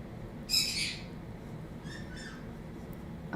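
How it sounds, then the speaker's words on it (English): Birds call in a few harsh squawking bursts, one loud and close, then two fainter calls over steady background hiss, with no talking. "I'm obsessed with these birds right now."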